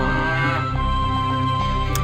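Cattle in the Lords of the Realm 2 game give a single drawn-out, steady moo that carries loud and close, ending with a brief click.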